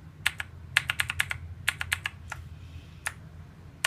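Typing on a Lightning Sport mechanical keyboard with blue switches gives sharp, clicky keystrokes in quick irregular bursts, then a few spaced single presses, close and distinct over faint background hum.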